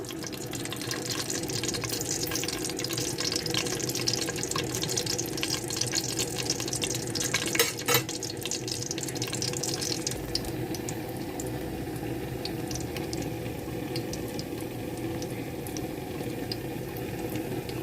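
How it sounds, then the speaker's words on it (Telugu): Cashews fry in masala for a meal maker pulao, giving a steady, even sizzle and bubbling that runs throughout with no speech. "మసాలాలో జీడిపప్పు వేసేసుకుందాము వేగుతున్నాయండి మసాలాలో"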